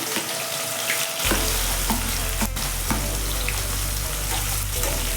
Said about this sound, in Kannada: ಎಣ್ಣೆ ಕಾದಿದೆ, ಹಾಗಲಕಾಯಿ ಹಾಕೋತಾ ಇದ್ದೀನಿ